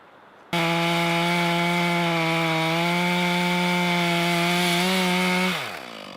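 A chainsaw starts cutting a large piece of wood into sections for firewood, a loud steady droning whine with strong harmonic buzz held for about five seconds before the engine winds down.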